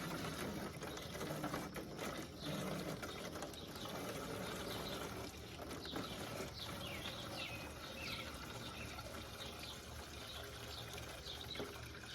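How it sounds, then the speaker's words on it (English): Water pours steadily into a garden container, a continuous faint splashing and trickling flow heard close up, with no talking. "we're going to fill the rest up with water"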